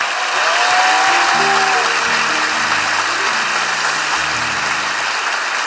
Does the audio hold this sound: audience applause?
yes